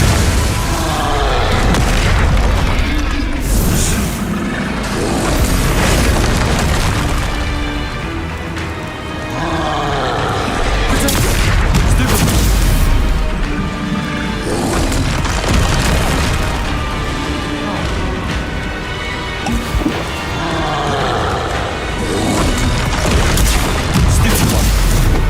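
Repeated booming explosions from Confringo blasting spells in a wizarding video game, heavy bursts recurring every few seconds over a dense, continuous background of game music and effects.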